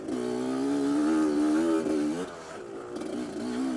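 A two-stroke motorcycle engine revs steadily up close, its strong harmonic tone wavering through a few throttle blips before dropping slightly and rising again.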